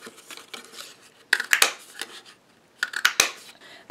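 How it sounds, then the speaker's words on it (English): A 3/4 inch craft paper punch working through cardstock, with sharp crunching clicks and snaps in two clustered bursts amid quieter rustling and handling noise, close and crisp. "For his eyes, I'm using the 3/4 inch punch."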